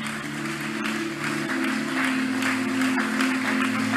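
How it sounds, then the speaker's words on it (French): A church congregation applauding and cheering for the Lord, a steady dense wash of clapping and voices with a sustained tone running underneath throughout. "Continuez à acclamer pour les Seigneurs."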